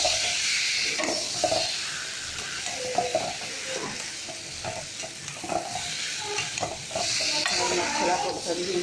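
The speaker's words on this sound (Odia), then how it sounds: "ଅଣ୍ଡା ଆମେ ମସଲା ସହିତ ଭଲରେ ଭାଜିବା।" Egg frying in a pan with masala spices, a steady sizzle broken by repeated stirring and scraping clicks from a spatula, moderately close, with no voices.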